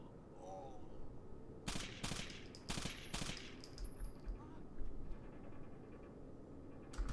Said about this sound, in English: I'll keep shooting